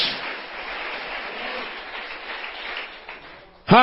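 A church congregation applauds with steady, dense clapping that holds for several seconds and fades slightly before a voice cuts in at the very end.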